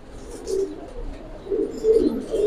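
Pigeons, several pairs kept together, coo in soft low throaty phrases close by, a few repeated calls rising and falling with quiet gaps between.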